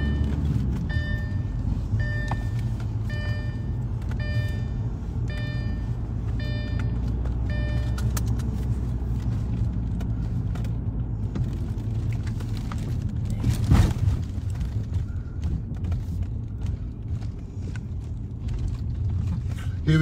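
Car rolls along a residential road past Christmas lights, giving a steady, moderately loud road and engine hum from inside the cabin, with a repeating tonal chime over it early on and a brief louder thump midway.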